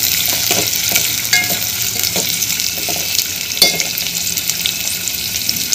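Onion sautéing with curry leaves in a pan, a steady close sizzle with repeated scraping stir strokes, no talking.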